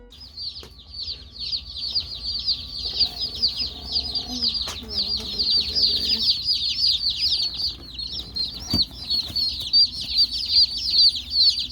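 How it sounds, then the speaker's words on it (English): A fresh batch of 26 baby chickens peeps and cheeps in a constant, busy chorus, high and close, with a faint low hum and a few soft knocks underneath. "So as you can probably tell, we got another batch of chickens today."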